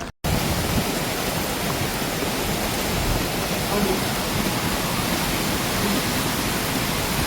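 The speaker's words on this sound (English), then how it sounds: "We're having a monsoon." Heavy monsoon rain pours down during a violent windstorm, a dense, loud and unbroken roar of water that continues throughout after a brief cut at the start.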